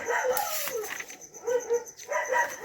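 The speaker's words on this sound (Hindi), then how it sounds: "और कुत्ते भौंक रहे हैं तो प्लीज़ उसको इग्नोर करिएगा" Several dogs bark and yip at night in a village, in short bursts with pauses, fairly close and loud, with no talk over them.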